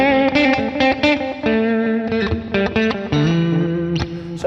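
Electric guitar playing a lead line through a Headrush Prime preset with graphic EQ, compressor, reverb and analog delay, giving loud, close, sustained notes that ring out with echoing tails.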